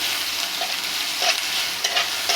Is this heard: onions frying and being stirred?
yes